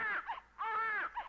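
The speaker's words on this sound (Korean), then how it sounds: "산속에 버려진 아기는 큰 소리로 울었어요." A baby abandoned in the deep mountains cries loudly in a cartoon-story sound effect: two rising, wavering wails, the second longer, close and clear with no speech.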